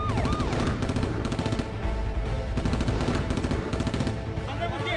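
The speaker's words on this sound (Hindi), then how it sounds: "दोनों तरफ से जो है गोलियां चलनी सुनाई दे रही है" Loud, rapid bursts of automatic gunfire exchanged from both sides during the terrorist attack on the Indian Parliament rattle continuously, with overlapping volleys crackling one after another.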